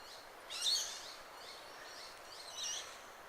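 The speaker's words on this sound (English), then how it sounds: "The birds are just waking" A few faint bird calls in the quiet pre-dawn air at the Eleanora Wetlands, two short bursts of chirping separated by a lull, distant and soft.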